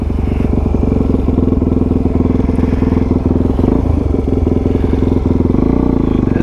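Motorcycle engine running loud and close in a steady, pulsing drone as the bike pulls away and rides on, with wind rumble and a faint voice underneath.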